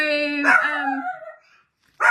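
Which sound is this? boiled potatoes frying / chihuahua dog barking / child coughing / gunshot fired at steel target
chihuahua dog barking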